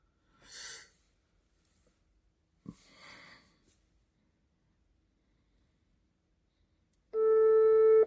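Telephone ringing tone while a call is placed to give a driving test result: a loud steady tone starts abruptly near the end, after a few breaths and quiet rustles.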